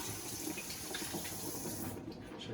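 Cold tap water runs steadily over chili peppers in a sink, a continuous close splashing stream that thins out near the end.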